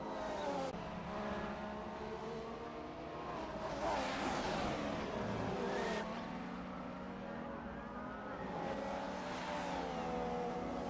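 Formula 1 cars racing at Belgium in an F1 video game, a continuous high engine whine with rising and falling revs as cars drive past, steady and fairly loud.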